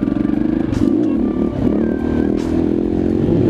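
A KTM 625 single-cylinder motorcycle brakes hard into a stoppie, its thumping engine loud and close, shifting pitch as it slows, with brief scraping clatter and whooshes over the rumble.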